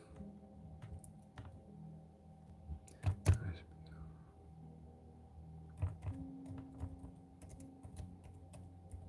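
Computer keyboard being typed on in short irregular bursts of soft key clicks, close and fairly quiet, with a couple of louder knocks partway through and no speech over it.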